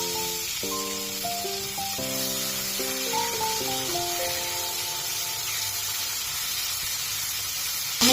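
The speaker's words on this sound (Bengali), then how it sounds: "কড়াইতে সাদা জিরে দিয়ে দিলাম তেজপাতা দিয়ে দিলাম এবার কুচনো টমেটো" Cumin seeds, bay leaf and chopped tomato fry in oil in a wok for a tilapia curry, giving a steady, even hiss that continues throughout under soft background music.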